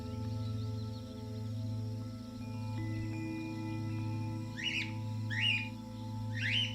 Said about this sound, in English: When hundreds of individuals gather, their chirping sounds like a brilliant love song in the sunset